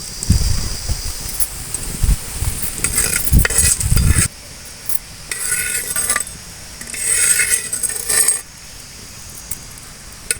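Chana dal roasting in a hot pan as it is stirred: scraping, rustling stirs and a soft sizzle, loud in bursts during the first four seconds, then lighter intermittent scrapes and rattles, no talking.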